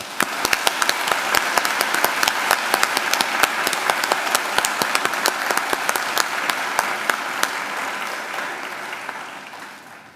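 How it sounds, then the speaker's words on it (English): Sustained applause from a large crowd at a university graduation ceremony, dense, steady clapping for about ten seconds, gradually thinning and fading toward the end. "Please join me in giving them a round of applause."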